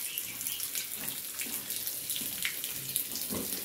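Water runs steadily from a tap at a farm to give drinking water to young hens, a continuous splashing flow heard alone at moderate volume.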